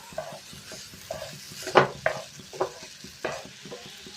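A spoon stirs semolina with milk in a pan, giving a series of soft scraping strokes, with several sharper, louder scrapes near the middle and toward the end.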